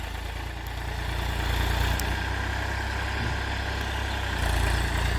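Tractor engine hauling a tiller through a farm field, a loud, continuous low drone with slight surges as the machine jolts, heard alone without voices.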